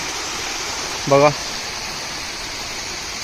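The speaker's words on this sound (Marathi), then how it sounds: "इथून स्टार्ट होणारा धबधबा डॅम इथे हा असा व्ह्यू आहे डॅमचा" Water rushes steadily down a waterfall at Nidi dam in forested Raigad, a constant, even roar heard from nearby, briefly interrupted by a single spoken word.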